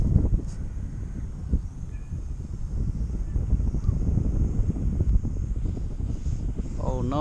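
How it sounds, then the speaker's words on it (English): Wind buffets a small Visuo X816 drone during an outdoor test flight, a steady low rushing roar of gusts against the microphone, with faint talk underneath. "the wind is trying to take it towards that ditch"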